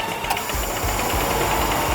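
A Kia Capital car engine runs steadily just after being switched on, a close, even mechanical chatter with a faint knocking texture, alone without talk.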